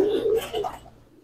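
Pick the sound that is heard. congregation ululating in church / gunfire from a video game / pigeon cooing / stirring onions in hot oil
pigeon cooing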